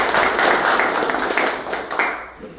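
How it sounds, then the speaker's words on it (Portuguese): An audience claps together in a dense, steady burst of applause at close range, tapering off over a couple of seconds. "Uma salva de palmas para ele, gente."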